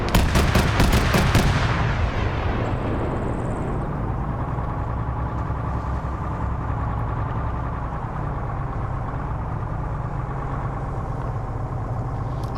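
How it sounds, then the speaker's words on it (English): Video game autocannon fires in a quick rapid burst at the very start, followed by a steady loud engine or vehicle drone that keeps going underneath with no talk. "Autocannon is now coming out and disabling these MRAVs."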